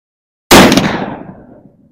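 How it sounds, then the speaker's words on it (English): A single loud, sharp report from a CVA Crossfire .50 caliber muzzleloader rifle, bursting out of silence and then decaying in a long, fading outdoor echo. "Let's load this thing up for you and let you get a shot off with it."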